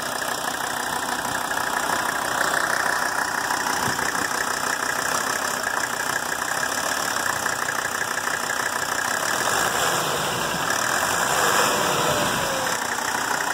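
A 1983 Mercedes 300D diesel engine idles steadily and close by, a continuous low rumble with a faint knocking clatter, running evenly for the whole stretch with no talk over it.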